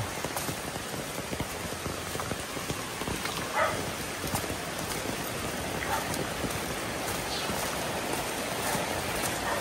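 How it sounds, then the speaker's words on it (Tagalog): Heavy storm rain during a typhoon pours down steadily and close, a dense constant hiss of drops pounding surfaces for the whole stretch with no break in intensity. "Bagyo na ito guys. Bagyo."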